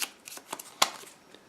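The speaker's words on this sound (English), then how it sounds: "we need to shuffle these 10 cards and pick 2." A small stack of about ten zombie game cards shuffled by hand, a few quick riffling bursts followed by a sharper snap, close and clear.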